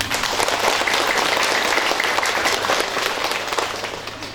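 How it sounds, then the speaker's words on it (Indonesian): A congregation at a thanksgiving Mass for the installation of a village head in Kufeu claps loudly and continuously, a dense crowd applause lasting several seconds and easing off slightly at the end. "Mari kita tepuk tangan dulu."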